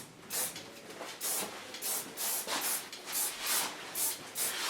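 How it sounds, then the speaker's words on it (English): Goldwell soft hairspray spritzed onto styled hair, heard as a series of about eight short hissing bursts in a steady rhythm, close and fairly loud. "Take a nice soft hairspray of Goldwell."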